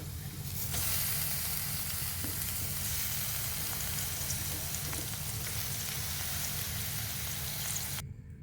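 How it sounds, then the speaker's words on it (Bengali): Ingredients and helencha greens sizzle in hot oil in a pan for a mashed greens bhorta, a loud, continuous crackling hiss that holds steady before cutting off suddenly at the end. "এখন সবগুলি উপকরণ আমি ভাজা ভাজা করে নিচ্ছি"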